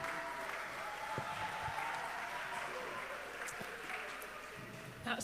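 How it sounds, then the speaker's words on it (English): A church congregation applauds through a Sunday morning service, steady sustained clapping from a full room with voices murmuring underneath. "So let's give a round of applause to Anna and Dale."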